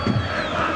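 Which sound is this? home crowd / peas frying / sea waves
home crowd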